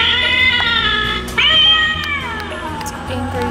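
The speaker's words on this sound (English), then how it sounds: "Look at this kitty cat." A Halloween toy cat lets out loud, drawn-out electronic meows and a snarling caterwaul, two long calls back to back, close and clear.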